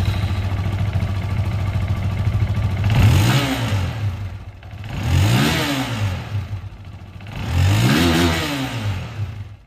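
SYM VFE 185i motorcycle engine revved three times, each blip rising sharply from a steady idle and falling back, loud and close with no talking.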